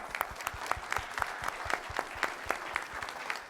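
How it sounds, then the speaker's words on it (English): An audience applauds event sponsors at a community college gathering, a steady run of distinct hand claps at moderate level lasting throughout, with no talking over it. "If we could just have a round of applause."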